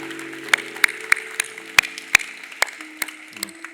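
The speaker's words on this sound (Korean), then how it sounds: "우리 다시 한번 큰 박수로 축복해 주시기 바랍니다" A church congregation claps at an Easter Sunday service, a short burst of scattered, uneven applause with sharp individual hand claps that taper off after a few seconds, with no talking over it.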